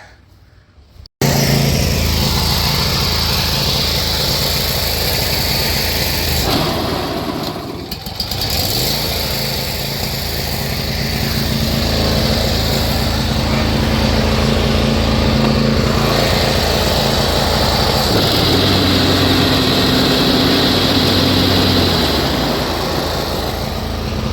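A John Deere Z335E zero-turn riding mower starts up and runs with a loud, steady engine drone close by, dipping briefly mid-run before holding a constant roar, with no talking.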